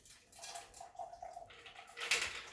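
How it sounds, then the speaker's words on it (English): Ice being poured out of a cocktail mixing glass, a short clattering, splashing tumble of cubes and water that builds to a louder rush near the end, with no talk. "And I'm going to pour the ice out."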